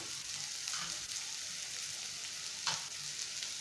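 Cauliflower frying in hot oil in a pan with onion already cooked in, a steady soft sizzle with occasional brief stirring scrapes, close and unbroken by speech.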